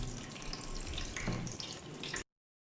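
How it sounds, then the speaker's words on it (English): Water running into a sump tank in a rainwater harvesting setup, a steady close rush of flowing water that stops abruptly near the end. "now I'm filling up the sump tank to show how the project responds when the sump tank is full and the header tank is full"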